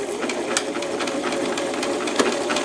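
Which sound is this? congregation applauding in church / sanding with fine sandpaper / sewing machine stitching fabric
sewing machine stitching fabric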